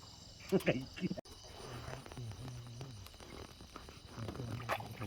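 Crickets chirp in a steady background trill, with faint scattered voices and a brief click partway through.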